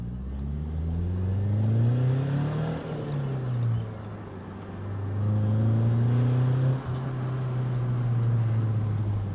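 A BMW E36 engine running while the car is driven, its pitch rising and falling as it revs up and eases off twice, steady and fairly close, with no talking.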